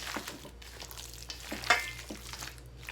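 Pork jerky stirred while frying in vegetable oil: a steady, close sizzle with soft scraping and stirring movements running continuously underneath.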